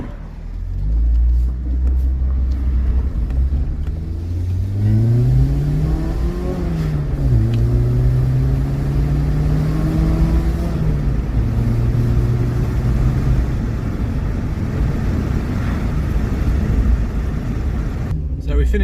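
Mk2 Golf Driver with a 1.6 8v engine on a Weber 32/34 carburettor, idling close up and then revved in a few rising and falling swells, a loud steady rumble throughout.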